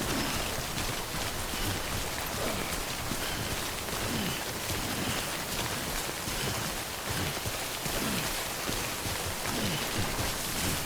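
Steady, dense rain pours throughout in the video game Death Stranding, an even hiss of drops striking surfaces with no break for the full stretch and no voices.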